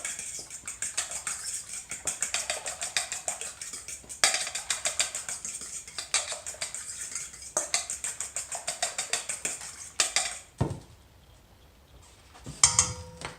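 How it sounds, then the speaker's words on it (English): Eggs and whole milk whisked together in a bowl, a fast steady clatter of a utensil against the bowl sides running for about ten seconds, then a few scattered knocks and taps. "So I have the eggs in the bowl. Put some whole milk in there. Mix that up."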